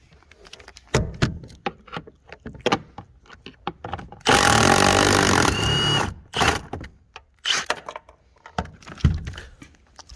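A power tool removes a 12 millimeter bolt from a console piece in a 2009 Toyota Camry, giving a loud, close buzzing burst of about one and a half seconds among scattered clanks and handling knocks.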